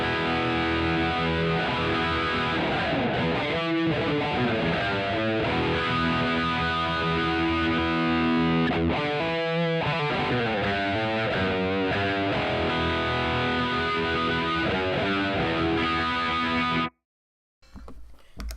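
Distorted electric guitar through an amp modeler with reverb off plays a dry, tight riff with chugging and sustained chords, loud and continuous, then stops abruptly near the end.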